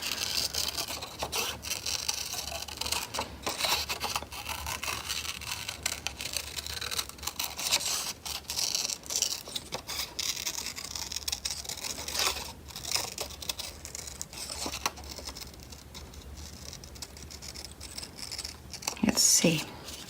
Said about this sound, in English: I'm just going to cut around it to make it a bit bigger.